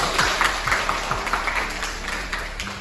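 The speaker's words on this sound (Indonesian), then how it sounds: "tepuk tangan dulu kita semua" A group of classmates claps together during a group guidance session, a dense, steady patter of many hands at moderate loudness that carries on evenly for a few seconds without talk.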